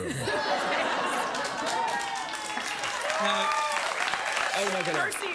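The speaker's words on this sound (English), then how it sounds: "Mercy applause" A talk-show studio audience applauds a guest, a dense, sustained wash of clapping and cheering close by, with voices talking and chattering over it throughout.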